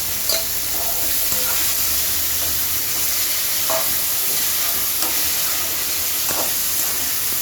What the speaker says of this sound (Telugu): కాకరకాయ ఉడకబెట్టి పక్కన పెట్టుకున్నాం కదండి వాటిని తిరగమాతలో వేసుకోవాలి